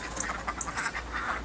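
Ducks kept on a snowy allotment quack in a quick run of nasal calls, fairly close and steady over a faint outdoor background, with no talking.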